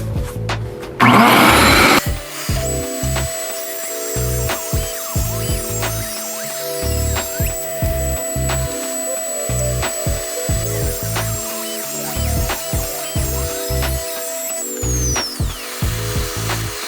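Table saw ripping mahogany into 2.5 inch strips for a door jamb: a loud sustained blade whine with a steady high tone, broken by repeated rhythmic thumps and cutting surges, after a short burst of noise at the start.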